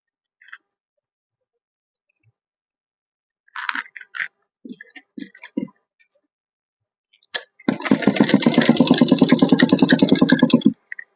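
A sewing machine stitching a printed suit runs in a fast, even mechanical clatter for about three seconds near the end, after scattered handling clicks and rustles of fabric.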